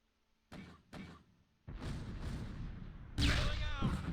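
Two sharp tank gun reports from the WWII game Close Combat, fired at a Sherman, followed by a sustained rumbling roar and a louder blast near the end; no talk in between.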